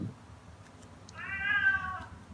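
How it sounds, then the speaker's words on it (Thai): A single drawn-out cat meow rises clearly over a low background hum, lasting about a second, near and alone with no talk. "โอ้แมวร้องครับ"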